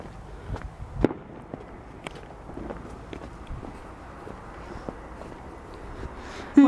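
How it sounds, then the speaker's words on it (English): Fireworks pop and crack at a distance on a dark, cold bonfire night, sounding as scattered sharp bangs of varying loudness against quiet background noise. "A firework."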